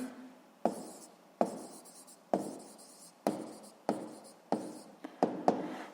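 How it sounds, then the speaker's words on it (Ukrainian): Pen writing out physics calculations on paper, a series of distinct stroke bursts with short pauses between them, close and fairly quiet with no voice over it. "Записуємо обчислення."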